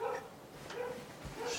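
A dog barks and yips a few times in short bursts, fairly close, over a low background hum.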